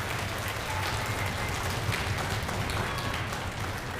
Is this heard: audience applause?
yes